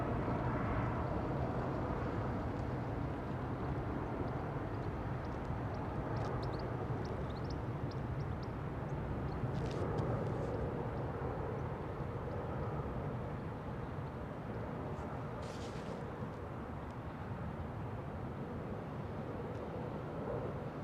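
A Boeing 777 departing overhead from London Heathrow Airport, a steady, heavy engine roar that fills the whole stretch without letup, distant but powerful, with a few faint higher tones drifting over the rumble.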